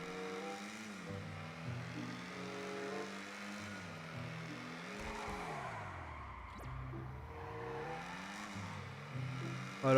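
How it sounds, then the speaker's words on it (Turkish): A car in GTA 5 Online drives with a droning engine that rises and falls through repeated gear shifts and revs, steady and fairly quiet throughout, with no talking. "araba şimdi burada sürüyoruz"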